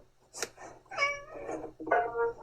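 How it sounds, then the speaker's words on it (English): A cat meows several times in a row, drawn-out and fairly close, against a quiet background. "I hear the cat."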